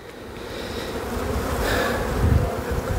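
Honeybees buzz around an opened hive on the coast, a dense continuous drone that swells slightly louder toward the end, with no voices.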